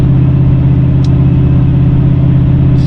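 Steady, loud, close engine drone from a GMC Sierra 2500HD with an 8.1 Vortec V8, 5.13 gears and the clutch fan deleted, cruising at constant highway speed, with no voices.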